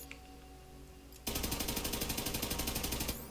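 Rapid automatic fire from a Fire Infinity pistol in Borderlands 3 starts abruptly after a quiet moment, a loud, evenly spaced burst of shots lasting about two seconds.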